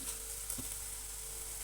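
Curry leaves dropped into hot oil with onion paste in a pan, frying with a steady soft sizzle and a single brief crackle partway through, fairly faint and with no one talking.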